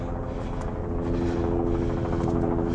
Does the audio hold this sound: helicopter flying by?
yes